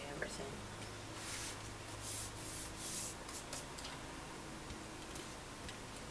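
A bone folder rubs back and forth over half-inch scored paper pages for a mini album, a steady close scraping swish that pulses softly throughout.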